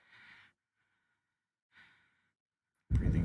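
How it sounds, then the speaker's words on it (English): Ragged breathing in the video game Mass Effect 2: two short, soft breaths separated by silence, then a sudden loud burst of noise at the end. "Breathing's getting ragged"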